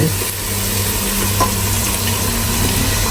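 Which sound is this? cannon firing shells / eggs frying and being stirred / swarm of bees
eggs frying and being stirred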